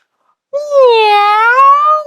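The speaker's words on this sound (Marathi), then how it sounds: "हा ती कोणाची मांजर आली?" A single long, clear cat meow, close and loud, rising then drawn out for over a second with nothing else around it.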